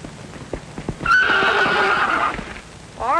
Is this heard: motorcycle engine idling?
no